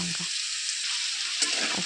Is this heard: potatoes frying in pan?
yes